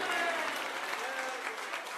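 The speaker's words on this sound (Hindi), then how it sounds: "ताली में दम हो तो बजा के दिखाओ।" An audience at a live religious discourse claps steadily, a continuous, fairly quiet burst of applause from a large crowd.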